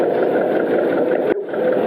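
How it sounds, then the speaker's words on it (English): An air-cooled Deutz tractor engine runs steadily at a constant rumble, loud and close, with a brief dip near the end and no voices. "later on became manufactured air-cooled Deutz tractors, which were very popular in their era. This one here, very strong tractor."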